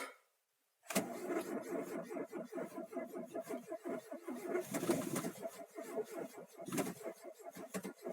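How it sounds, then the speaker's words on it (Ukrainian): A car engine cranks and catches in snowy winter cold, a steady loud running rumble with fluctuating roar after a brief silence, birds cooing faintly alongside. "Значит, завелась машинка."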